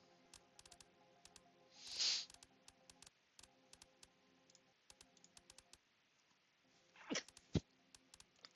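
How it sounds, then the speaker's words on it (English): A person sneezes twice indoors against a quiet background of keyboard clicks. One sharp sneeze comes near the start and a second, burst-like sneeze comes near the end. "Had to sneeze a little bit there."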